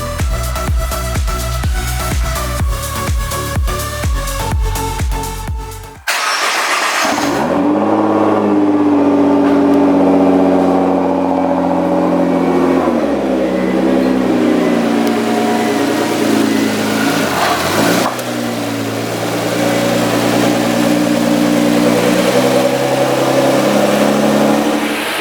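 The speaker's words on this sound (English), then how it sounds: "Just letting it idle." Nissan GT-R engine idles after an oil change, a loud, steady mechanical hum with shifting tones, preceded by a brief burst of rhythmic pulsing before settling into a continuous close drone.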